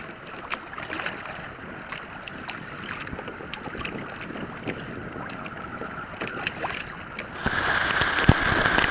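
A Hobie Mirage pedal kayak moves through water with a steady wash and splashing, wind buffeting the microphone, and a louder surge of water and wind near the end.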